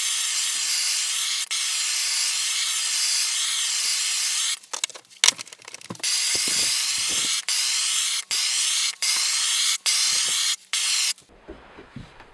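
A propane torch roars in a steady, close hiss as it scorches a wooden sledgehammer handle, broken near the end by a series of short on-off bursts and clicks.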